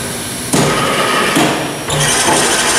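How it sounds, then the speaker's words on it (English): An Eldorado M75-1046 deep hole gun drilling machine for 3/4 by 30 inch work runs in rapid feed, loud steady mechanical whirring with two abrupt step changes as the motion shifts. "I'll just go into a feed motion now. We got rapid feed coming up here."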